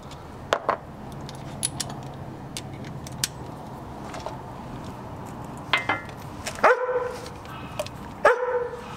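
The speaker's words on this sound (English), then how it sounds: "Bit of barking." A dog barks a few times at a distance, short sharp yaps standing out over steady outdoor background noise while someone works on a Land Rover Defender damper.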